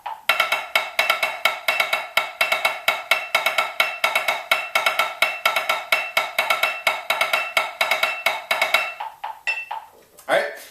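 A snare drum plays the 4 section of the Herta Grid at 85 beats per minute, a fast, even stream of crisp strokes with regular accented groupings that runs for about nine seconds, then stops.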